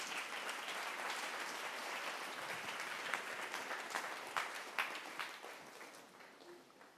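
Audience applause at a church session, steady dense clapping that thins into scattered individual claps toward the end, heard at a distance and fairly faint.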